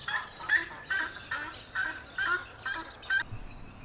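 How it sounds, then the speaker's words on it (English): A domestic goose at a suburban dam honks in a loud, close series of about eight nasal calls in an irregular rhythm, alone without talk. "a non-native domestic goose, proudly looking at all the commotion of the dam"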